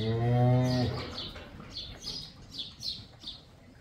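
On a farm, a single loud, close cow moo opens the clip and lasts about a second. Scattered bird chirps follow in the background.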